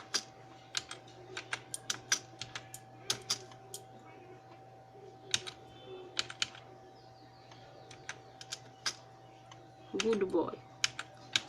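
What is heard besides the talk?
typing a sentence on a computer keyboard into Notepad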